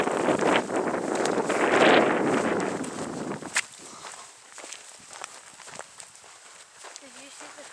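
Footsteps crunch along an outdoor shooting range in East Canyon as people walk downrange, steady and close for the first few seconds under gusty wind noise, then fading to quieter shuffling and faint background sounds.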